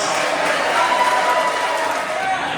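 Wedding guests applaud the father of the groom as he comes up to speak, a steady wash of clapping and crowd noise filling the room, close and loud throughout.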